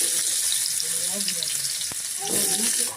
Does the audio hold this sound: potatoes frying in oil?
yes